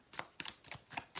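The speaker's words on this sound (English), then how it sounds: "I'm going to shuffle 4 times" Tarot cards being shuffled by hand, four or five quick papery riffles spaced about a quarter second apart, close and fairly soft, with no talking.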